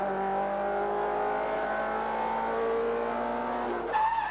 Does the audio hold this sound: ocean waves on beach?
no